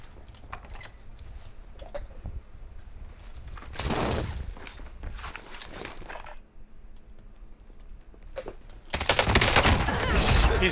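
KSP 45 submachine gun fire in Warzone, arriving in bursts: a loud volley near four seconds, scattered shots in between, and another heavy burst at the end, with faint voices in the background.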